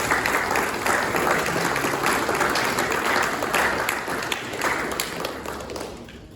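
An audience at a scout troop court of honor applauds, a steady wash of many hands clapping that stays loud and gradually fades toward the end.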